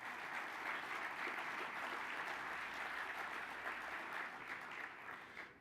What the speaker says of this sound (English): please give a final round of applause to our publication award winners